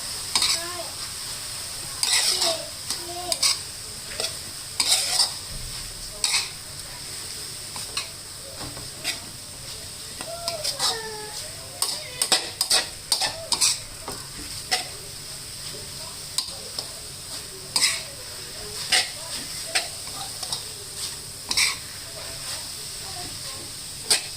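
Minced chicken and mushrooms stir-fried with holy basil in a pan, steady sizzling and hissing with repeated scraping stirs throughout, while someone talks now and then.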